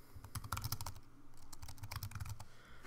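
Quick bursts of keystrokes on a computer keyboard, close and fairly quiet, with two clusters of rapid tapping separated by a short pause.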